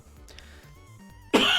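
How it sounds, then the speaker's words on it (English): A single sharp, loud cough from a person still recovering from illness bursts out at the very end, after a stretch of quiet background sound during a game development session. "I'm so sorry about the coughing."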